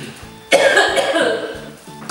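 One person coughs a single harsh burst up close against a faint rhythmic background hum, followed by a lingering rough tail.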